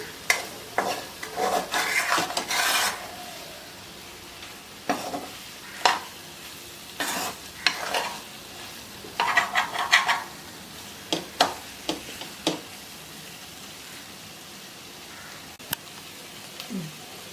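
Prawn masala stirred and fried in a pan, heard as bursts of scraping and sizzling from a spatula working the pan, separated by quieter pauses, close and with no speech.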